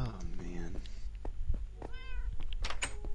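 A cat in the Minecraft video game meows several times in quick succession, mixed with soft thumps and low background noise.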